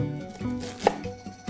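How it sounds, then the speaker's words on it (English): A knife slices kernels from fresh ears of corn, giving a soft scraping cut with one brief louder stroke near the middle of the short stretch. "We're gonna cut the kernels from these two."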